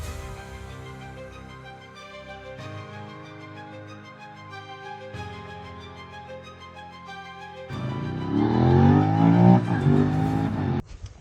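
A 2021 Suzuki SV 650 motorcycle's engine runs steadily with a droning tone and a few shifts in pitch, then revs louder and rises sharply toward the end, heard close and with no talking.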